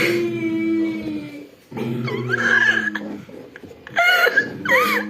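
A dog whimpers in high, wavering whines that rise into brief howl-like cries, in bursts separated by short pauses.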